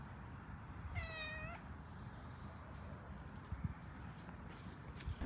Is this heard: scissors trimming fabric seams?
no